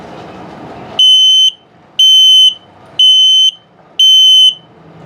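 Smoke and carbon monoxide alarm in a 2022 Flagstaff High Wall HW29SC trailer running its self-test, sounding four loud, shrill, evenly spaced beeps about a second apart.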